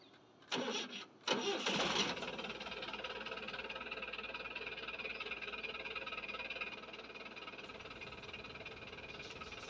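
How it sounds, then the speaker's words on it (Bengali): A used T-King 1-ton pickup truck engine cranks in two short loud bursts, then catches and settles into a steady, slightly rough idle that carries on at an even level, recorded up close. "আমি স্টার্ট দিচ্ছি, হ্যাঁ, ইঞ্জিনের সাউন্ড কোয়ালিটি দেখতে পারবেন।"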